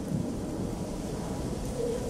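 A low, steady roar of storm noise with rumbling wind and rain, constant throughout with no distinct thunderclap.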